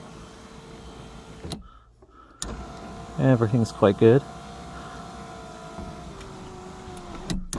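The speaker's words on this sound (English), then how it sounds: "The car is fitted with an electric roof, and it slides" Electric sunroof on a Fiat Tempra car sliding open, a motor whirr in short rising bursts close to the microphone over steady cabin noise, with someone speaking briefly before it.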